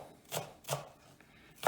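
A knife chops food for pork dumplings on a cutting board, two distinct close thuds about a third of a second apart, followed by a quieter pause and the start of a third strike.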